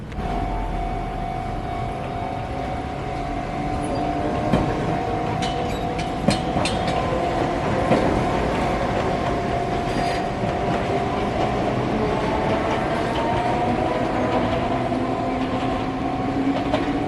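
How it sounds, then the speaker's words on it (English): Enoden electric train running down the middle of a street in Enoshima, a steady rolling rumble with clacking wheels and a faint high squeal, close by and continuous throughout. "Here in Enoshima, the trains run in the middle of the street"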